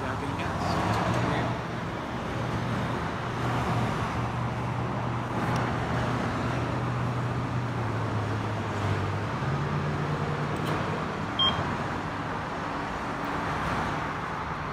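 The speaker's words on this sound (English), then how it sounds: "it's just a friendly neighborhood gas station" Road traffic at a small neighborhood gas station in Tennessee hums and rumbles at a moderate distance, with engines idling and passing cars, while people talk faintly over it.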